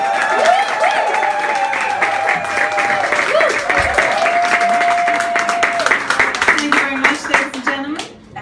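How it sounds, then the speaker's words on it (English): A large live audience claps and cheers in a warm round of applause for a comedian named Phoebe Toal, sustained and dense, with whoops and voices rising over the clapping before it thins near the end. "please give a massive warm round of applause"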